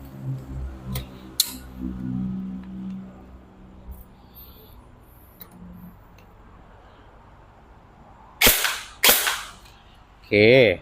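A G&G ARP-9 electric airsoft gun fired in a few sharp, isolated cracks, with quiet stretches between shots and a couple of louder, closer bursts near the end.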